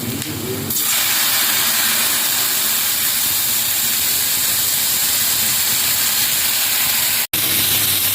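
Water splashes into a hot pan of bitter gourd and potatoes frying with onion, salt and turmeric, bursting into a loud sizzle that settles into a steady steam hiss, broken by a brief dropout near the end.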